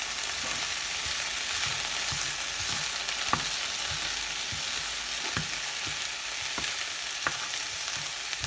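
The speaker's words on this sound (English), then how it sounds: "I'm going to stir that in and let that brown." Chopped garlic frying in a pan for smothered okra with shrimp, a steady close sizzle with sharp crackles and occasional clicks of stirring scattered throughout.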